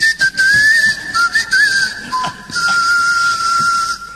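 A person whistles a wavering, sliding melody to imitate the legendary singing Colossus of Memnon, the statue said to sound when wind passed through small holes; the whistle is loud, close and alone, with brief pauses between phrases.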